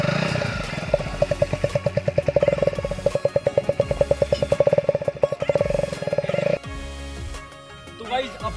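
A Hero Splendor motorcycle fitted at home with a modified KTM-style exhaust runs with a loud, rapid rhythmic thumping, then cuts off abruptly and is followed by a softer rustle.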